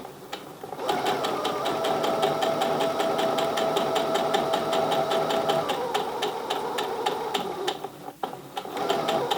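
A sewing machine stitches a hot pad in a fast, steady run of needle clicks at close range. A brief pause near the end breaks the stitching.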